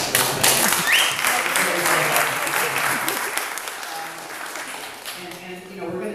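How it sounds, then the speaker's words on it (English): An audience breaks into sustained applause at a legacy celebration event, loud dense clapping that gradually thins out, with a few voices heard beneath it. "A round of applause."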